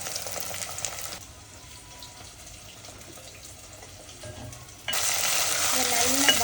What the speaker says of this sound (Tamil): தக்காளி போ பழம் போட்டு நல்லா வதங்கின பிறகு இன்றைக்கி வந்து நம்ம பஜ்ஜி மிளகா எடுத்து வச்சுருக்கோம் அதையும் போட போகிறோம்